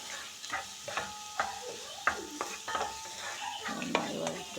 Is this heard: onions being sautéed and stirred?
yes